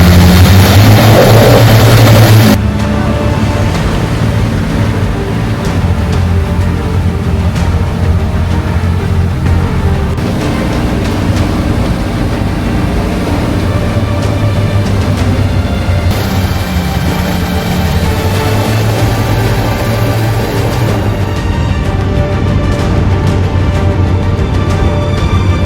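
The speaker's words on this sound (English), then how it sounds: "ramps up the engines to almost full power so you can get a real feeling for how powerful these 4 Merlin engines" The four Merlin engines of a Lancaster bomber at Lincolnshire Aviation Heritage Centre run up to near full power, making a loud, continuous, deep roar that swells sharply after a brief start and holds heavy and steady throughout.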